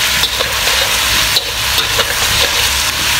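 Chicken sizzles loudly in a pan while a utensil stirs it, with a few sharper scrapes and clinks over a constant frying hiss, close up and without speech.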